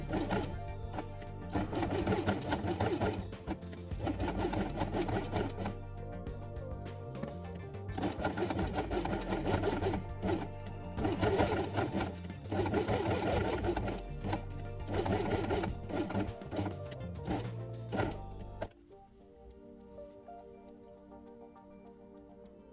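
A sewing machine stitches a pink fabric piece along its edge with pink thread for a doll house quiet book, running in several long rhythmic bursts with brief pauses, then stopping near the end.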